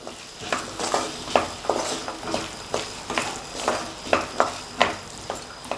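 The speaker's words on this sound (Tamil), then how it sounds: "அதை சேர்த்துட்டு நல்லா மிக்ஸ் பண்ணிடலாம்." A spoon scrapes and stirs peas in a pan for a potato-pea kurma, with about a dozen steady rhythmic strokes over a soft sizzle.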